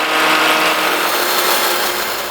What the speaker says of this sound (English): I start out at the drill press to get the tight inner radius.